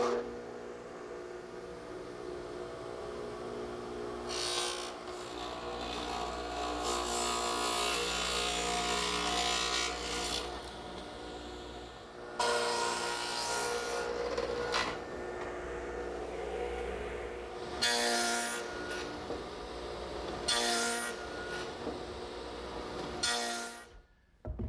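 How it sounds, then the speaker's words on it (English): A radial arm saw fitted with a stacked dado head, set about 5/8 inch wide, cuts dadoes in wood for a picnic table, with repeated loud broadband bursts of cutting separated by quieter motor hum, no talking. "I've set up a stacked dado head cutter in my radial arm at about 5/8 of an inch width, and I'll just take my time and make all the cuts"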